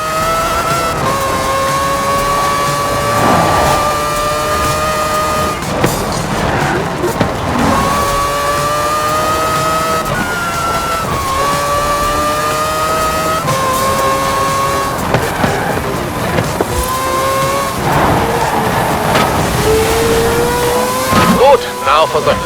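Forza Horizon 4 car engine howling and revving continuously, loud and rising and falling in pitch as gears shift, with a voice talking over it.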